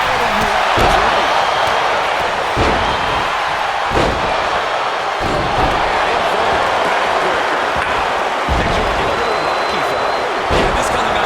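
Heavy wrestling slam impacts in the WWE 2K25 video game land as a series of deep, booming thuds every second or two over a constant roar of an arena crowd.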